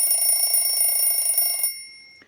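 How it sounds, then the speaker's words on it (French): Alarm clock ringing loudly with a steady, continuous metallic bell for about a second and a half, then cutting off abruptly, alone with no voices. "qu'annonce avec fracas le réveil matin des gens normaux"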